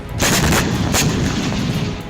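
Missile and rocket explosions in Sderot, Israel, from a barrage of more than twenty missiles: a dense, loud, continuous roar of blasts and booming fire, with a sharper burst near the start and another about a second in, without talk.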